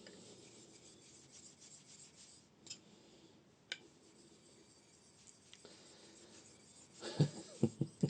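A stainless steel razor blade is honed on a Japanese Nakayama whetstone, making soft, continuous rasping strokes close by, with a few faint ticks and a louder cluster of knocks at the end.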